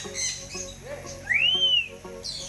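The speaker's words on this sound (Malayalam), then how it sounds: "ആള് ആഫ്രിക്കൻ ഗ്രേ പാരറ്റ് എന്നാണ് അറിയണേ" An African grey parrot whistles close by: a clear, rising-then-falling whistle in the middle, with shorter chirps and squeaky calls around it and no talk.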